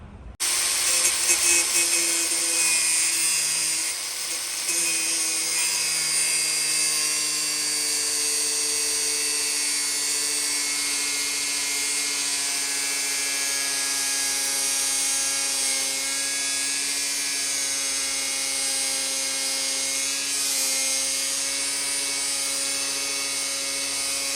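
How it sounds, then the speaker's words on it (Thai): A power tool whines steadily and loudly while cutting a bolt shorter on a Honda Smash 110 motorcycle, starting with a brief louder burst and holding a sustained high, slightly wavering pitch. "ที่เหลือก็ต้องตัดน็อต ให้มันสั้นลงตัวเนี้ย"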